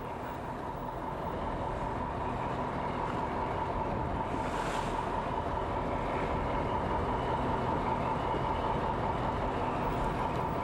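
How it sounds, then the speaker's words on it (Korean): Unusually high ocean waves surround a hairtail fishing boat at sea, a steady loud rush of water and wind with a constant engine-like drone beneath, continuous for the whole stretch with no talking. "오늘따라 유난히 높은 파도."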